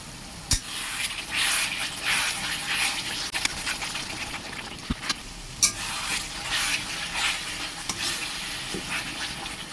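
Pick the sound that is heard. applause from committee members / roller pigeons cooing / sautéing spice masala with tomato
sautéing spice masala with tomato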